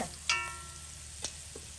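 Spice powders sizzling softly in a pan over a low flame, with a couple of brief scraping stirs from a spoon, faint and close.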